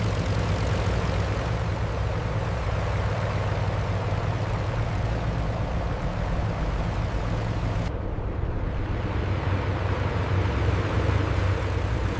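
Propeller engines of a Lancaster bomber running in winter conditions, a dense, loud and steady roar with a deep low hum that holds throughout, with no speech over it.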